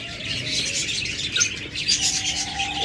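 A big-sized breeding pair of cockatiels chirps and tweets steadily in a cage, their high calls overlapping at close range with no talking.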